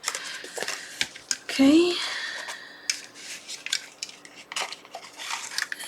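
Scissors snip a small leftover piece of paper during a papercraft project, a few short crisp cuts near the microphone among rustling handling noise, with a brief spoken word.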